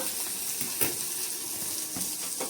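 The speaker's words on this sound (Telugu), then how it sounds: "చింతపండు ఎల్లుల్లిపాయలు కొత్తిమీర కొద్దిగా నూనెలో బాగా వేగాలనేసి" Tamarind, garlic and coriander frying in oil in a pan, a steady soft sizzle with a few faint stirring clinks.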